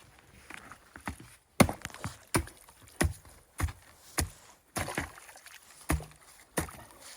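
Repeated heavy chopping blows strike ice to open a hole for winter swimming, at a steady pace, about ten sharp thuds, close by with quiet rustling between strikes.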